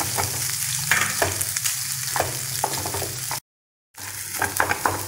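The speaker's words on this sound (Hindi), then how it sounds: "बॉईल करके मैंने हल्का सा यहाँ पे मैश कर दिया है। इसको हमें अच्छे से फ्राई करना है।" Boiled, lightly mashed potato fries and is pressed around a pan for a puja prasad dish, giving a steady close sizzle with rhythmic scraping and stirring strokes and a brief silent break near the end.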